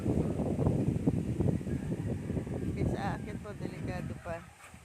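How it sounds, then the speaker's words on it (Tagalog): Gusty wind roars and buffets the microphone in uneven surges while a person talks over it. "Ang lakas po ng hangin dito sa amin guys."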